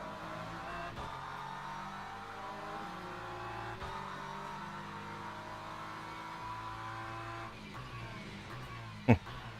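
Hypercars race past on the Silverstone circuit in a World Endurance Championship event, a steady distant engine drone with shifting pitch as cars pass, and one brief sharp spike near the end.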